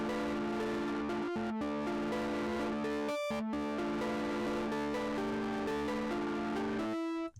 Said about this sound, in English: you can already hear just that lo-fi crunch and grit that the Monotron Delay provides